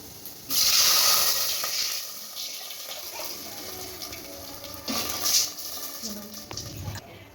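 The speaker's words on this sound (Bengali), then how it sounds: "মাপ মতো বারোশো জল দিয়ে দিচ্ছি" Water is poured into a pot of rice and lentils for khichuri, making a steady, close rushing splash that eases off, then briefly swells again before fading.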